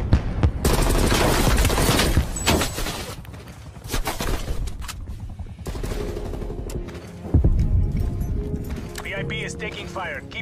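Sustained automatic gunfire and scattered shots crackle through a Black Ops Cold War match, dense and loud, with a voice talking over the shooting.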